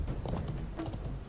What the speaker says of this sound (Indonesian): Oh, naik kuda nih.